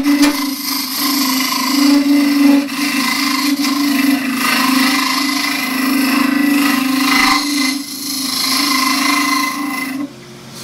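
A wooden scoop spins on a lathe while a 1-inch asymmetric round nose tool cuts it, giving a steady, close rushing scrape over a constant low motor hum with no break for about ten seconds.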